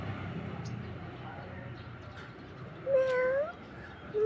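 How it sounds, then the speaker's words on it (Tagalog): A single clear cat meow rises near the end, close and loud, with adults and children talking quietly before it and another meow beginning as it closes. "Anong sound yan? Isang cat?"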